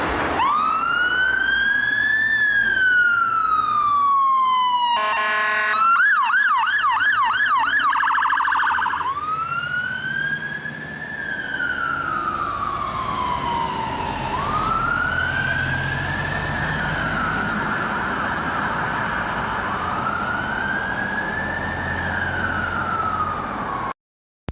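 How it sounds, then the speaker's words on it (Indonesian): Toy fire truck siren wailing loud and close, a rising and falling electronic tone that switches briefly to a rapid warbling yelp before returning to slow repeated wails, continuing alone without speech. "Ya, ini adalah truk pemadam teman-teman."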